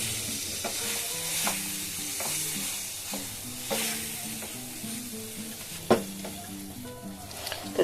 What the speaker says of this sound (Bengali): দিয়ে এটাকে সমানে আমি ভালো করে মিশিয়ে নেব আগে